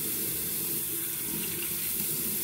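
Tap water runs steadily into a sink, a continuous broadband rush at close range with no pauses, left on while waiting for it to warm up.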